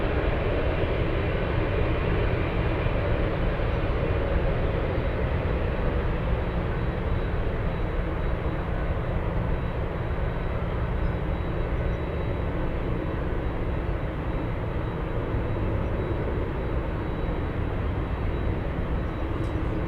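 Steady broadband roar of a FedEx Boeing 777 freighter powering up at Anchorage airport, a continuous distant jet rumble holding even throughout with no talk.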